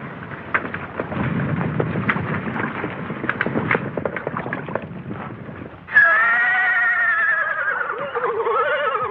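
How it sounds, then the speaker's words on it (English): Heavy rain and low rumbling fill the first part, then a bogged-down horse whinnies loudly and at length, its shrill neigh wavering and trailing off. "One of our horses is bogged down."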